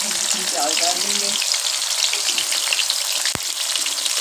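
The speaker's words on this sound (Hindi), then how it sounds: "घी हमारा गर्म हो गया, अब हम इसमें प्याज डाल देंगे।" Onions hit hot ghee for a chicken shahi korma and crackle in a loud, dense, continuous fry, with a brief voice early on and a sharp tap near the end.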